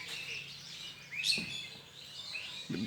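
A bird at its nest gives a few faint, thin chirps, including one brief clearer call midway, over quiet outdoor background.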